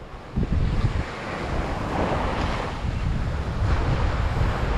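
Ocean waves rush and break continuously nearby at Linapacan, Palawan, mixed with heavy wind buffeting the microphone.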